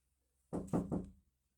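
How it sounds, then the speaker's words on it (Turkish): Three quick knocks on a door, close and moderately loud, sounding in a fast even sequence against otherwise quiet surroundings. "kapı çaldı"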